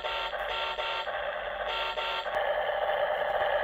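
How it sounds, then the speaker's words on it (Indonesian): The horn of a toy RC double decker bus (Double E model) sounds as a loud, continuous electronic tone that pulses slightly in repeated cycles, with no talk over it. "Horn."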